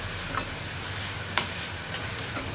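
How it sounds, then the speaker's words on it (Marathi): Chopped onion sizzling and frying in a pan while being sautéed until lightly browned, a steady close hiss with a few faint clicks of stirring. "थोडासा कलर चेंज होईपर्यंत कांदा मस्त परतून घेऊ आपण, हलकासा ब्राऊन होईपर्यंत"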